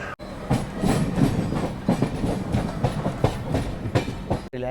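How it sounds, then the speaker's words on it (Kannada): The Udyan Express runs into Pune Junction on a monsoon journey from Mumbai, giving close, loud, rhythmic clickety-clack of wheels over rail joints with pulsing bursts throughout. "ಎಂಟ್ರ್ ಆದೀವಿ ಈಗ ಪುಣೆ ಜಂಕ್ಷನಿಗೆ"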